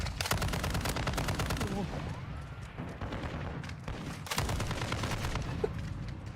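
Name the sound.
shotgun gunfire in Call of Duty Warzone video game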